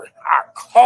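A dog lets out a few short, close barks and yips in quick succession, with brief gaps of silence between them.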